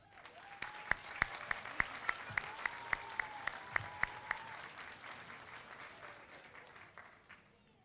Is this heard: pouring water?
no